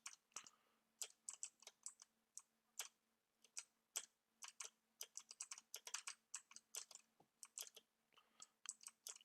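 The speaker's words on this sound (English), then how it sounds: "I just realized y'all can probably hear my keyboard." Computer keyboard keys clack in quick irregular bursts, close and fairly quiet, with short pauses between flurries of typing.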